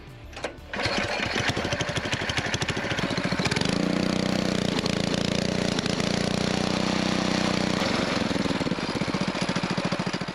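A Coleman BT200X mini bike engine with a torque converter starts up after a brief pause, then chugs loudly up close, revving higher midway as the clutch engages before settling back to a rapid, steady putter.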